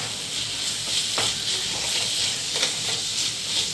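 Ginger paste sautés in a pan for a chicken dry roast, a steady close sizzle with occasional scraping stirs over the constant hiss.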